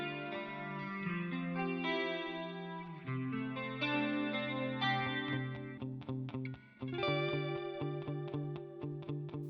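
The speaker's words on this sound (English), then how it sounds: "showcase some guitar tones for my Line 6 Helix" An electric guitar plays through a Line 6 Helix effects processor, first sustained chorused chords with a shimmering wash, then sharper rhythmic stabs ringing with echo.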